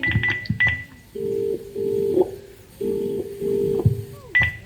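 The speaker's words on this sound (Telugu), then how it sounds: "ఏంటి నాన్న ఫోన్ లిఫ్ట్ చేయట్లేదు?" Short electronic dialing beeps, then a steady ringback tone repeating in long even pulses, with a few more beeps at the end; no talking.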